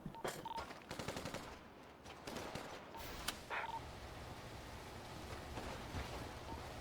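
Gunshots in a GTA roleplay game, a few rapid bursts of fire early on over a steady background hiss, fairly faint overall.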